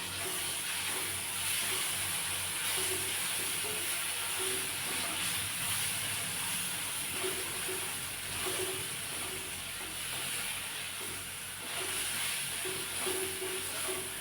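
Ginger garlic paste sizzles in a frying pan with chicken liver, a steady close hiss of frying oil that runs unbroken, with no talking.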